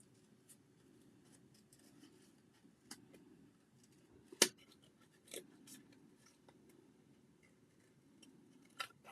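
Scissors snipping through card stock while making a festive shaker card, with quiet scattered cuts and light rustling of paper, close and soft, and a sharper snip midway.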